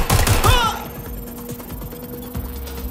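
Gunfire in the video game Watch Dogs: Legion, a rapid burst of shots up front followed by scattered mechanical clicks and lighter impacts, with a voice briefly heard.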